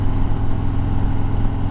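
Steady motorcycle engine drone while cruising straight down a road, a continuous low rumble holding even and loud throughout with no talk over it.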